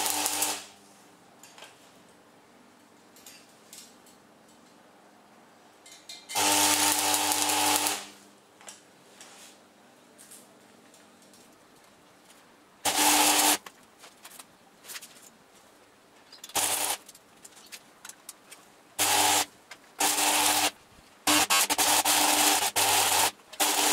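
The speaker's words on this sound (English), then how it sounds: "We'll have a quick weld as we do." Tack welding on a lathe bench during a lathe rebuild: several separate bursts of crackling, buzzing arc noise, each lasting a second or two, split by quiet gaps, close and fairly loud.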